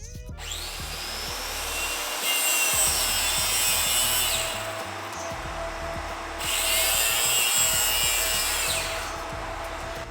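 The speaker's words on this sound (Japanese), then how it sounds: "乾かしている間にフレームになる材料を切っていきます。" Wood being sawn into frame parts for a handmade wooden Gundam model, two long bursts of rhythmic rasping power-saw cutting separated by a quieter lull, close and loud, with no speech.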